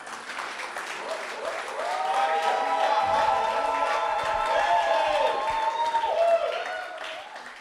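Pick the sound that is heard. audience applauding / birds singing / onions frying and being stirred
audience applauding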